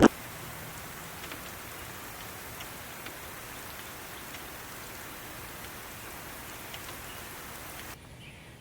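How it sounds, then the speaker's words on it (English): Steady heavy rain pours down in a torrential storm, a dense, even hiss of drops on surfaces lasting throughout with no voices, cutting off abruptly near the end. "I think the weatherman's saying it's going to be a torrential downpour."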